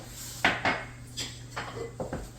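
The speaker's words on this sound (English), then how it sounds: "I'm going to start stirring because I don't want it to, I don't want anything to burn" A utensil stirs brown sugar into melted butter in a pan, several scraping clinks against the pan in irregular strokes, close and moderately loud over a faint steady hum.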